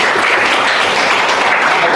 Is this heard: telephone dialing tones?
no